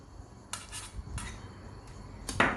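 A spoon scrapes and clinks against a pot as Turkish ashure pudding with figs is stirred, a few short metallic strokes close by over a quiet kitchen background.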